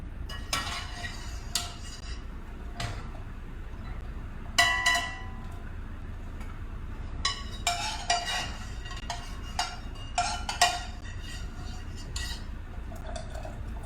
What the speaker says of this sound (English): I use a spider strainer. And I'm just taking the pasta right from the pot and going directly into the skillet.